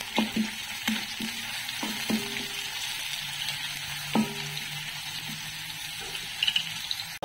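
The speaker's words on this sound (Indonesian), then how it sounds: "Tumis sehingga keperangan. Kemudian masukkan kulit kayu manis." Onions or aromatics sautéing in a pan until browned, a steady moderate sizzle with occasional stirring clinks and scrapes, then pieces of cinnamon bark dropped in; no talking.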